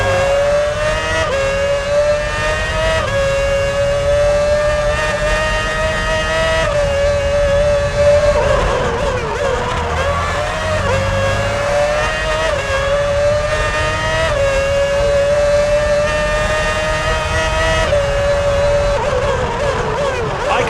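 Formula 1 car engine in the F1 2006 video game, pulling out of the pit lane at the Canada round: a steady loud high-pitched whine that climbs and drops with each gear change in repeated surges, close and continuous.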